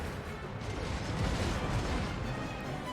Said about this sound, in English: They're just firing an endless stream, an almost endless stream of fell fire.